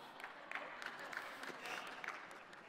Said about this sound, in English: those who are applauding